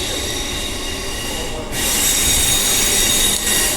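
A passenger train runs along the rails with a steady rumble, and partway through a loud, sustained high-pitched wheel squeal breaks out and continues close by, with no voices.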